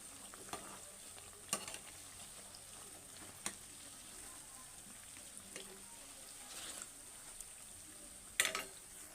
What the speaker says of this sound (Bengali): চলুন এগুলোকে হালকা আঁচে ভেজে নেব